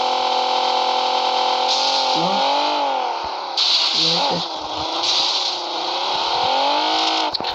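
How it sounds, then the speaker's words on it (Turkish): A car engine revs and whines steadily in a game, pitch rising and falling with bursts of acceleration, loud and continuous throughout. "Arabanın sesi çok rahat atıyor."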